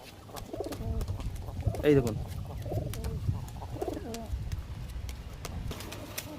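Pigeons cooing in a loft, with several soft rolling coos close by and a rustle of wings, while someone speaks briefly over them.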